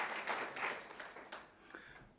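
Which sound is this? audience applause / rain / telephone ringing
audience applause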